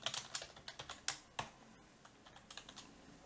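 Rapid typing on a computer keyboard while entering a school name into Arduino LCD code, a quick run of close, crisp keystrokes, a short pause, then another burst, with no voices.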